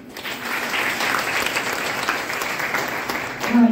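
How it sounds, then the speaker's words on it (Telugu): Participants in a free beautician class in Guntur clap together in dense, sustained applause lasting nearly four seconds at a fairly even level. "రెడీ అయిన వాళ్ళందరూ క్లాప్స్ కొట్టాలి"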